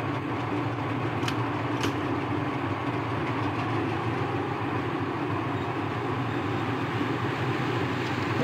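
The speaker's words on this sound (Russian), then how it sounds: "пока наш тепловоз отправляется" A TE3 diesel locomotive in the video game Trainz departs hauling light wagons, giving a steady, continuous engine rumble and rolling rail noise throughout with no speech.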